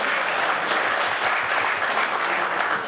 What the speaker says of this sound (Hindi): जोरदार ताली तो बजाओ